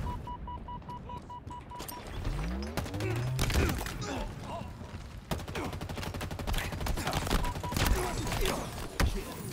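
Rapid automatic gunfire crackles through a Halo Infinite multiplayer match, with dense bursts of shots, mechanical clanks and a steady in-game ambience underneath, loud and close throughout.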